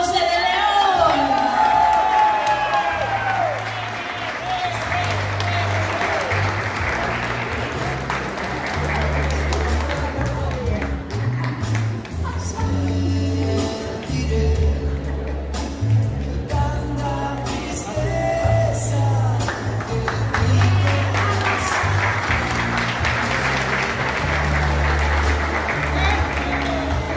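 A crowd applauds and cheers to welcome the environment secretary, Viviana Ponce de León, at a public event, with loud, sustained clapping and a few whoops over steady background music for nearly half a minute.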